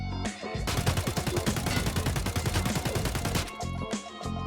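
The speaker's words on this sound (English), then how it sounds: "this thing essentially fires the same way that a normal AK without any attachments would do" Sustained full-auto bursts from an AK rifle fitted with a 25mm ring-mount flashlight in Escape From Tarkov, rapid evenly spaced shots rattling for about three seconds, loud and close, with no talk.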